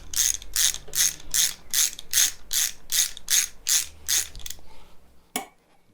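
A ratchet spanner or socket tightens a valve on a Kranzle pressure washer with about a dozen crisp, evenly spaced clicks, close and loud, then stops with a final single click.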